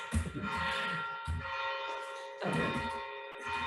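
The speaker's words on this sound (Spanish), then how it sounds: "Interferencia con las campanas." Church bells ring steadily in the background of a conference hall, their sustained metallic tones overlapping in repeated swells, with no talk over them.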